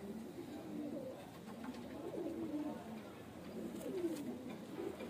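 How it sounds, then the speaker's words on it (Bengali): Male and female pigeons of the Andhra breed cooing softly in low, repeated rolling phrases, steady and close, with light background noise. "মাদি 9 পরে আছে, 8 পলক আছে। তো দুটো পায়রাকে আমি ছেড়ে দেখাবো"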